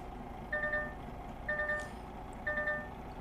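A reversing truck in Euro Truck Simulator 2 gives three evenly spaced electronic beeps, each about half a second long, fairly clear over a low engine hum.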